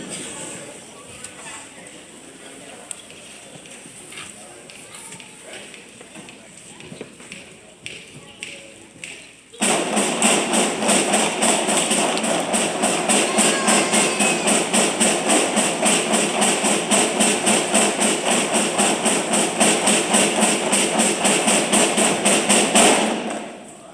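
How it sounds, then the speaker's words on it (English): A sixth-grade school band plays a paradiddle warm-up: rapid, steady drumming on snare drums starts suddenly partway through and continues loud and even until the end, after a quieter stretch of scattered taps and shuffling. "here's our paradiddle warm-up"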